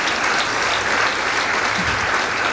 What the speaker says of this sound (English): Please give yourself a round of applause for helping us put this together.